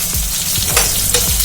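Tomatoes sautéing in a pan with capsicum and onions, a loud close sizzle with soft rhythmic scrapes and low bumps of stirring, no voices.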